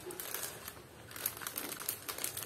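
Chilled Kit Kat cake being wrapped in crinkly plastic packaging, with close, steady crinkling and rustling running through the whole moment and no voices.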